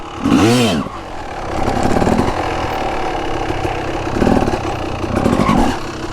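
A Honda CR250 two-stroke dirt bike engine during a wheelie attempt: a sharp rev at the start, then a loud, rough idle with a couple of throttle blips, close by.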